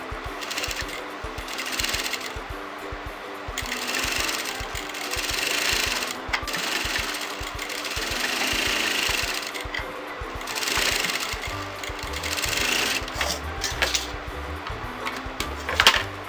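A sewing machine runs steadily, stitching pin tucks with contrasting thread, its fast mechanical whirr and needle chatter continuing close up for the whole stretch with slight rises and dips in speed.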